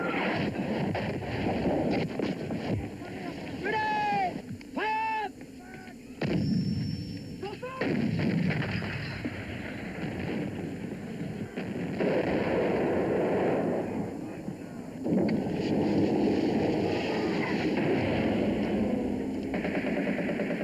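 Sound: artillery barrage sound effect, Falklands War

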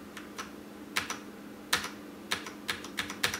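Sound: linear mechanical keyboard switch clicking as key bottoms out

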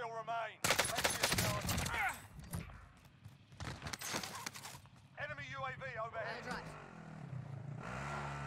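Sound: gunfire in a video game

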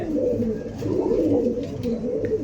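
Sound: pigeons cooing

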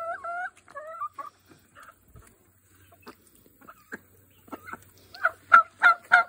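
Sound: duck or goose honking

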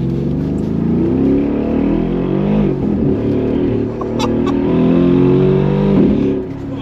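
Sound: Mercedes G700 Brabus engine revving

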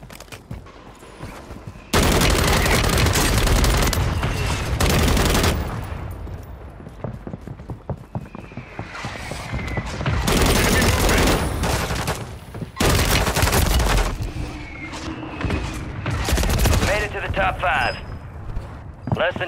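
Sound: mortar strike explosions in a video game

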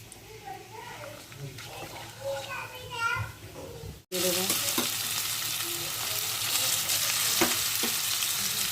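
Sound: spices frying in oil for carrot halwa

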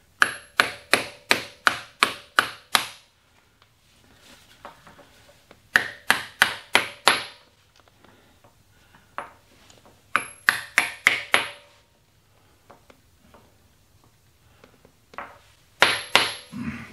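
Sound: hammering an insertion tool to fit a machine oil window

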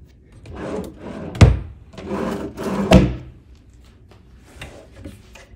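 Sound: mini fridge door in hotel room

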